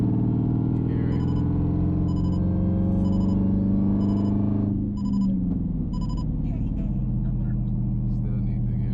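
A Dodge Hellcat Redeye idles with a deep, steady rumble close by, the engine note dipping slightly partway through while a faint electronic chime beeps repeatedly in the background.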